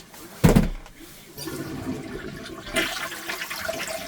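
A household toilet flushes as its tank drains, opening with a sharp loud rush of water, then a gurgling swirl and a second surge of flowing water as the bowl empties and refills nearby.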